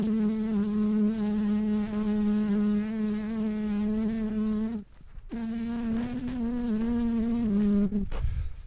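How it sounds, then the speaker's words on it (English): Bees from a collected swarm buzz loudly and continuously up close with a steady droning hum, cutting out abruptly for a moment near the middle before resuming; no talking. "Got a pocket full of bees."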